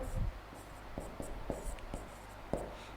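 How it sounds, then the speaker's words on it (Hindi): Writing on a board during a Hindi-language biology lesson: steady, scratchy strokes come close and clear in short, regular bursts about every half second, with no talk over them. "इसकी फुल फॉर्म भी लिख देता हूं मैं यहां पर"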